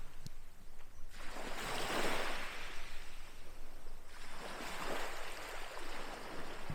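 Sea waves at Swanpool Beach in Falmouth, Cornwall, with two broad washes of surf rolling in and receding over a constant background rush, no voices.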